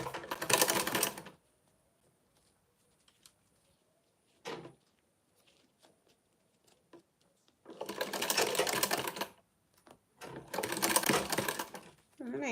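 A sewing machine stitches a zipper onto a bag in three loud, close bursts of rapid whirring, separated by quiet gaps with small clicks and handling noises.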